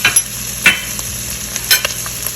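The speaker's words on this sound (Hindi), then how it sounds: "तो अब इन सब चीज़ों को थोड़ा फ्राई करते हैं" Spices fry in a pan for chicken jalfrezi: black pepper, white pepper, ground coriander, salt and a little cumin give a steady close sizzle, broken by a few scraping stirs, with no voices.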